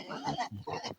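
Pigs grunting in the snow at feeding time, a quick burst of a few close, rough grunts and squeals lasting about a second.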